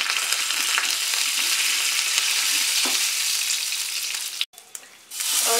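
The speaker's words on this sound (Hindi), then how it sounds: "तिल, नीम के पत्ते और हींग डाल के अच्छी तरह से मिलाएंगे" A tempering of mustard seeds, sesame seeds, neem leaves and asafoetida being mixed in hot oil in a kadhai for veg dhokla: a dense, even sizzle with soft stirring scrapes, briefly dropping out near the end before resuming.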